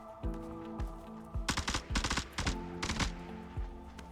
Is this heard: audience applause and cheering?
no